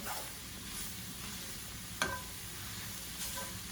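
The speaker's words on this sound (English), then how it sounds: "So you just need to keep stirring them around a little bit" Mushrooms sizzling in a pan beside steak tips, a faint steady crackle with scraping stirs and one sharp utensil knock midway, close but quiet.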